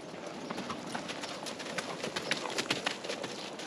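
Hooves of a horse clip-clopping as it is led in from outside, a run of close, distinct knocks over a steady background, with birds cooing nearby.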